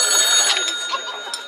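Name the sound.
telephone ringing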